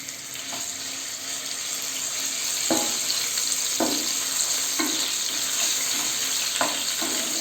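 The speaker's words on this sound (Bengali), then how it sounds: "এরপর এই তেলের মধ্যেই দিয়ে দেব বোনলেস চিকেনগুলো। এগুলো হালকা করে ভেজে নিতে হবে।" Boneless chicken pieces fry lightly in oil for Hakka noodles, a steady hissing sizzle that grows slightly louder, punctuated by several soft knocks and scrapes as the pieces are moved around.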